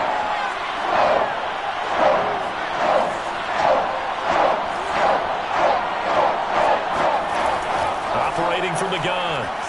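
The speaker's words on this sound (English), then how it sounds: "Crowd getting in it a bit already." A football stadium crowd during an NFL game against the Vikings roars steadily in surging waves, a dense wall of cheering and yelling that swells and falls throughout without a break.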